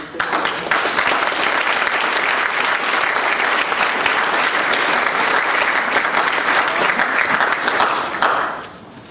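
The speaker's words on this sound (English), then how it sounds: "A round of applause" Sustained applause from a conference keynote audience greets a speaker coming to the stage, a steady dense wash of clapping holding at full strength for about eight seconds before dropping off abruptly.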